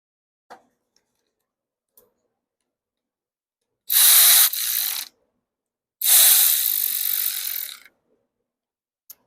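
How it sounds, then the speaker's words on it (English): A hand ratchet tightens bolts on a Husqvarna push mower being reassembled, two loud, close bursts of rapid clicking, each lasting about a second, separated by quiet, with no talking. "Put the bolts back in."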